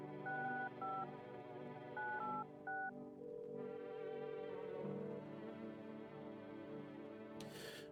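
A phone keypad is dialed in the game No I'm Not A Human, giving a series of short paired DTMF beeps in quick bursts over a steady electronic hum, followed by a sustained tone.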